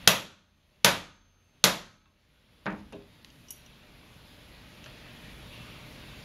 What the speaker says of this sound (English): we're going to hammer on the soft metal rivet which holds the two blades together